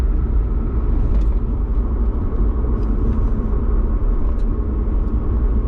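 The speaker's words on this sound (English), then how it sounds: "So we're driving 40 miles an hour in 5th gear." Inside a New Edge S95 Ford Mustang cruising at 40 mph in fifth gear, a steady low engine drone and road rumble fill the cabin, loud and unbroken, with no talk.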